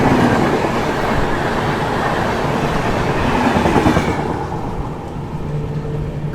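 The Kanyakumari–Dibrugarh Vivek Express thunders past close by, a loud continuous rumble of wheels and carriages with clickety-clack rhythm that thins out toward the end as the last cars go by.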